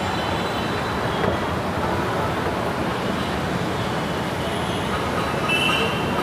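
Steady rumble and hiss of a Hyderabad metro train at a station platform, a continuous broadband roar holding at even loudness with faint high whines, no talk.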